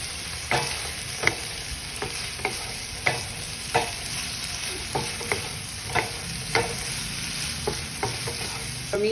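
Cubed Spam stir-fries in oyster sauce in a hot pan, sizzling steadily while a utensil scrapes and stirs in a regular rhythm of clacks, close and clear, with no talking.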